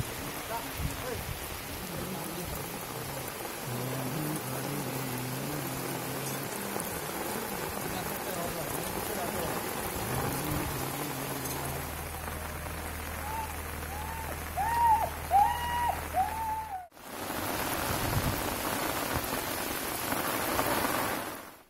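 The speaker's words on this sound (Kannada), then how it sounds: "ಕೊಡಗಿನಲ್ಲಿ ಮಳೆಯ ಅವಾಂತರ ದಿನೇ ದಿನೇ ಜಾಸ್ತಿನೇ ಆಗ್ತಾ ಇದೆ" Heavy monsoon rain falls in Madikeri, Kodagu, as a steady, dense hiss throughout, with some faint tonal sounds and a brief pause near the end.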